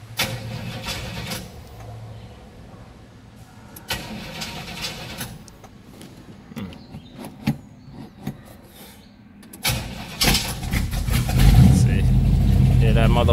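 A muscle car project engine cranks after a stretch of talk and faint fuel-pump noise, catches near the end, and runs loud and rough to the close.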